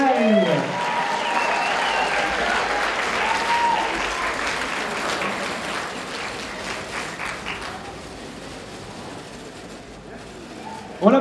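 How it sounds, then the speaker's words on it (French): A crowd claps loudly for a performer cosplaying Rin from Love Live, sustained applause that gradually thins and fades toward the end, with a few voices and a sharp noise at the close. "On applaudit fort Rin de Love Live."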